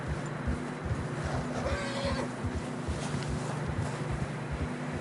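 A horse neighs in a short whinny over steady wind noise and the rhythmic clip-clop of hooves on fresh snow in Red Dead Redemption 2, fairly close but not loud.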